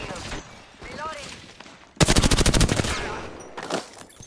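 Gunfire in a multiplayer shooter video game, with a loud burst of rapid automatic fire in the middle following quieter game sounds and voice chatter, then a shorter burst near the end.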